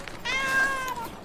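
A house cat gives a single drawn-out meow, clear and fairly close, lasting about a second with a slight rising then falling pitch, no talking over it.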